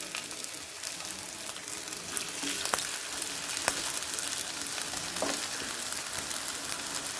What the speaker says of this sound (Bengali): এবার এটাকে তেলে ভেজে নেব এবার একটা একটা করে দিয়ে দিচ্ছি তেলের মধ্যে